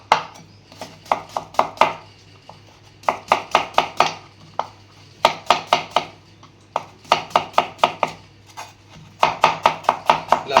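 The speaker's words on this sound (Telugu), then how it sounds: "ఇలా బాగా నీట్గా సన్నగా ఆనియన్ తరిగి పెట్టుకోవాలి" A knife chops onion finely for a masala bread omelet on a cutting board, quick bursts of sharp, rapid taps in rhythmic clusters with brief pauses between, close and crisp with no talking.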